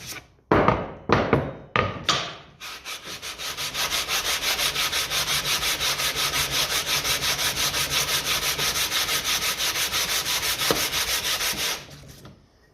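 Steady rhythmic cutting or filing strokes on a part of a Ferguson TEF 20 diesel injection pump, close and moderately loud, after a few separate knocks at the start, with no talking.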